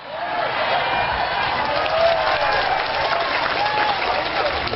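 An audience at an Islamic religious lecture applauds in a sustained, moderately loud wash of clapping. A faint voice rises and falls faintly underneath.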